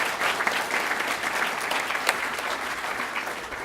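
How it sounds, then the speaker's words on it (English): Applause from an audience at a Cook County justice event, a steady wash of many hands clapping that fills the whole stretch at moderate level, with no voices over it. "Round of applause for the attorney."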